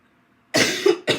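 Two close, harsh coughs, the first longer and rougher, the second short, each ending in a voiced rasp.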